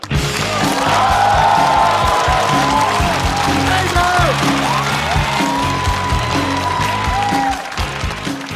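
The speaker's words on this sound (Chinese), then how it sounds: "掌声有请。" A studio audience at a comedy roast show claps and cheers continuously for an arriving guest, with music playing underneath, before the noise tapers off near the end.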